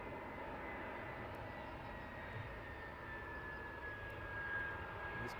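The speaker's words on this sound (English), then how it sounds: "So we'll pan around to the next aircraft inbound." An airliner approaching Luton Airport on its inbound run, a faint, distant, steady jet engine drone with a slowly shifting whine, heard alone.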